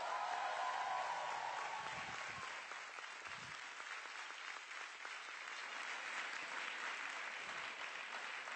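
Studio audience applauding on an Italian TV talk show as a rapper is welcomed on stage, a dense, steady wash of clapping that holds for the whole stretch, with a brief voice near the start.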